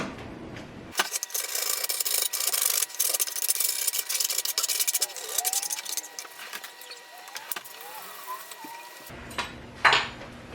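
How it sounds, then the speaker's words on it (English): A metal utensil scrapes food residue out of a cast iron pan in close, irregular rasping and scratching strokes with occasional clinks, ending with a brief clatter. "Okay, so that's about as good as it gets, just scraping it out."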